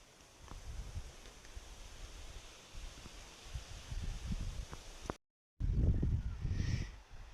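Soft wind rustling through plants in an open field, with low gusty buffeting and a brief cut partway through.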